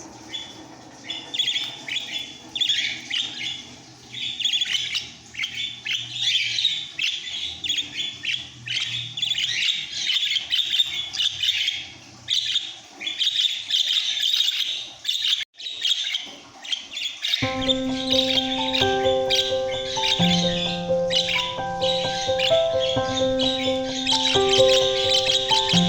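Eight pet budgerigars in Sorubim, Pernambuco keep up a busy stream of high chirps and squawks at close range, with a melodic tune taking over the background for the last third.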